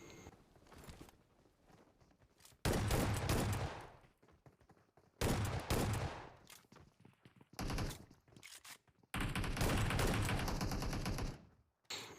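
Loud automatic gunfire erupts in long, dense bursts during a PUBG Mobile gun fight, separated by quieter gaps that carry faint footsteps and shuffling.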